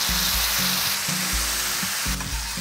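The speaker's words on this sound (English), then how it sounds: "We're going to fry this for three to four minutes" Pureed tomatoes frying in hot oil for a stuffed whole chicken dish, a steady loud sizzle and crackle with a low rhythmic thumping underneath, close-up and continuous with no voices.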